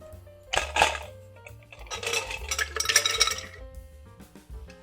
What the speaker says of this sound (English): and then I'm going to add our ice.